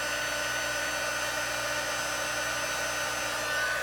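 A heat tool melting embossing powder on a die-cut craft piece, its fan blowing a steady, loud whirring hum with a high whine that holds unchanged throughout, alone without voices.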